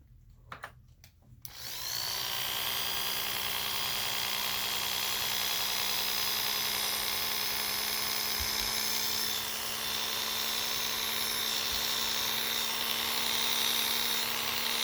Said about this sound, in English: just kind of let it fall into the clipper